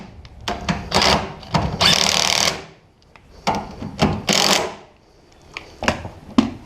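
A power tool runs rusty bolts into a new tailgate hinge on a 2004 Chevrolet Silverado 2500HD in short, loud, close bursts of whirring, several starts and stops with brief pauses between them.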